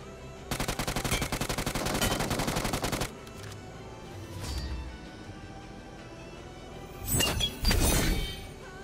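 Rapid automatic gunfire bursts from the battle royale game BGMI, a loud sustained volley followed by scattered shots and a couple of sharp impacts near the end, with no talk.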